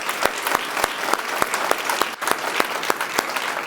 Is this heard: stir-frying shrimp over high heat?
no